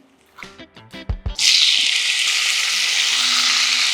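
Several quick clinks and taps as dried red chillies, urad dal, cumin, mustard seeds and garlic go in, then a loud, sustained hot-oil sizzle of tempering for gongura pachadi, close and continuous, with no talk.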